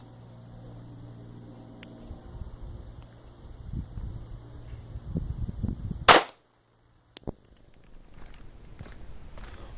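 A single sharp handgun shot from a Sig Sauer fires into a test bucket, a loud crack at close range after a stretch of low rustling and handling, followed by brief silence and faint movement.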